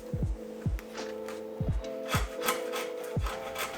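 Notches being cut into a wooden frame for a DIY camper interior, a close, rhythmic run of rasping saw strokes with a humming tonal ring behind them.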